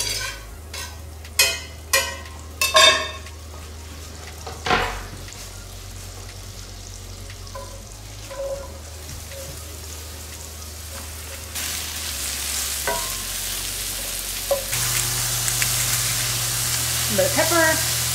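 A pan of king bolete mushrooms fries in butter with a constant close crackling sizzle. A few sharp taps and clatters of a utensil come early, and the frying swells louder toward the end.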